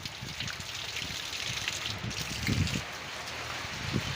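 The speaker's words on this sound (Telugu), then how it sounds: "డాబా నుంచి చూడండి ఎట్లా నీళ్ళు పడుతున్నాయో" Steady rain pours and splashes nearby, running off a terrace in a continuous dense wash of water with a few heavier gushes.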